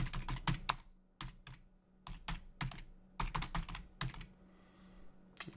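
Quick typing on a computer keyboard while entering a location: clusters of sharp, close key clicks in uneven bursts, with brief pauses between words and a faint electronic chirp near the end.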